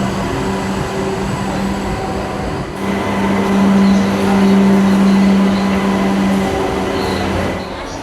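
Commuter train bound for Sealdah pulling into a station near Berhampore, a steady low rumble and hum of railcars rolling in with rising loudness midway, continuous rail noise throughout.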